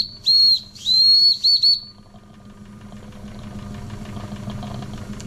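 A Wilesco D21 toy steam engine runs quietly with a soft, steady mechanical chuffing, after a few sharp, high whistle-like bursts at the start. It sounds close and fairly faint, with no voices.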